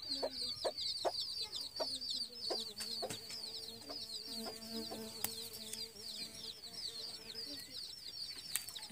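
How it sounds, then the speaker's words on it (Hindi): Chicks and hens on a rural Indian homestead: a constant stream of high, thin cheeping runs alongside low clucks and a few sharp calls, fairly close and steady throughout. "इसमें चूजे चू चू कर रही है।"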